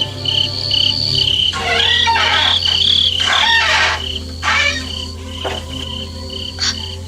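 Rooster crowing as a radio drama sound effect for a Javanese-style serial, several drawn-out crows heard over a steady bed of chirping crickets and insects, fairly loud and close.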